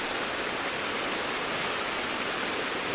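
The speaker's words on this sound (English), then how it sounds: "He wants to stop the creek." Steady broadband rush of a mountain creek running over rocks in the Lauterbrunnen valley, Switzerland, constant and close with no voices.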